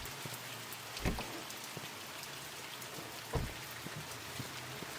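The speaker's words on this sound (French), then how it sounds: "Petite pluie là." Light rain patters steadily in the video game The Mortuary Assistant, a soft, even hiss with a couple of louder drips standing out.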